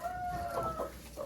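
Hens cluck softly in a chicken coop during rain, a few short close calls over a low background murmur.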